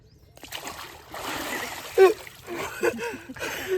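Splashing in cold winter water while a farmer installs a motor, with uneven splatters and a sharper splash midway over a low rushing background, and voices talking along with it.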